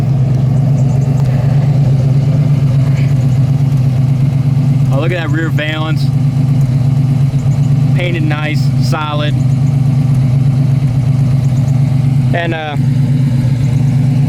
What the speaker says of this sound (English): that muscle car sound noise you're hearing right now is coming from these dual exhaust